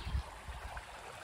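Water of a creek on a hiking trail rushes and gurgles in a steady broadband wash, close and moderately loud, with no talking.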